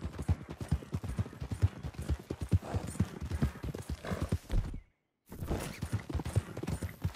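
Horse hooves clip-clopping in the video game Red Dead Redemption 2, a quick, steady gallop of close, loud hoofbeats that cuts out briefly near the end before resuming.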